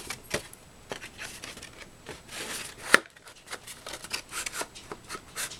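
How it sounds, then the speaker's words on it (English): An EK Success paper punch trims the corners of a card for a baptism invitation. Several close, soft crisp snips and paper rustles come at irregular intervals, with one sharper click near the middle. "now on the inside I'm using my EK Success punch, and I'm going to do all four corners"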